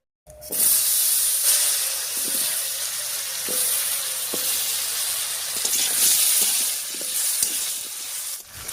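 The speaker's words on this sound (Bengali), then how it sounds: "এবারে কেটে রাখা আলুটা দেব।" Cut potatoes dropped into hot oil already frying dry chilli and cumin burst into a loud, close, hissing sizzle that holds steady, with faint stirring clicks and no talking.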